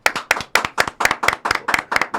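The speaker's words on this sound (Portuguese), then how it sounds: "uma salva de palmas para o Fernando" A studio audience gives a burst of applause to welcome a guest onto a Brazilian football podcast, with steady rhythmic clapping close by and no talk over it.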